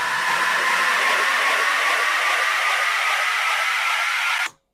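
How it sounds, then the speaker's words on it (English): Dense, noisy processed delay wash run through a frequency shifter, its lower edge sweeping steadily upward over about four seconds, loud and sustained before cutting off abruptly. "I like using frequency shifters when I can versus just automating the pitch, because sometimes it just gives you these weird artifacts that sound cool"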